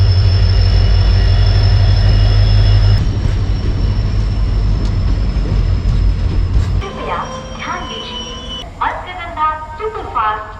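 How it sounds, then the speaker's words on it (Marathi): The Matsyagandha Express passing at a station, a loud rumbling roar at first that drops to a lighter rattling and clatter, with horn-like tones and whistles rising near the end. "आता तुम्ही जी समोर ट्रेन बघितली ती मत्स्यगंधा ट्रेन होती"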